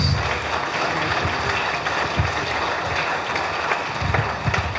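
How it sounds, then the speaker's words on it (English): Applause for a singing, drumming and dancing group, a broad steady wash of many hands clapping at moderate distance, continuous with a few sharper claps standing out near the end. "Can we once again give the group a round of applause?"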